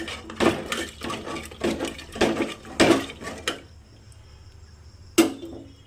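Mutton being stirred with hot water in a pot for handi mutton: a series of sharp metallic clanks and scrapes of a spoon against the vessel, several in quick succession, then a pause and one last knock.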